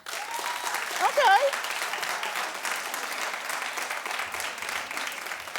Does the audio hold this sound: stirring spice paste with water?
no